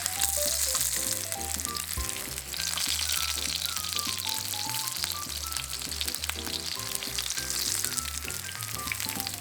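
Homemade coarse-ground hamburger patties fry in a pan with a dense, constant sizzle and crackle, heard under a light background melody with no talking.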